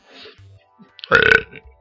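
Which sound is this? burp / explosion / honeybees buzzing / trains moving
burp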